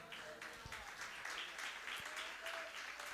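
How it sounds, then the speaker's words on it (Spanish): A church congregation at a sermon gives strong applause, sustained clapping from many hands with a few sharper thumps, heard at low level from a distance. "bríndele un fuerte aplauso al Señor."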